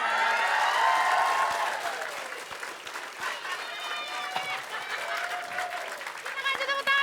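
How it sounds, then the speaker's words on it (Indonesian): An audience breaks into loud applause on an Indonesian comedy show, a dense wash of clapping that swells at first and then thins, with cheers and voices mixed in. "kita kasih tepuk tangan buat Pak Jajan, Bang Mali Iya."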